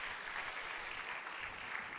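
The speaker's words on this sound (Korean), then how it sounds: "박수로 격려하도록 하겠습니다" Steady applause from a church congregation fills the whole moment, an even wash of many hands clapping with no voices over it.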